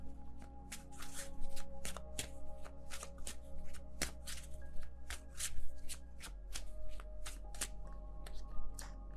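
Tarot cards are shuffled by hand in a busy, rapid flurry of riffling and slapping taps, close and steady over a low background hum, with no talk.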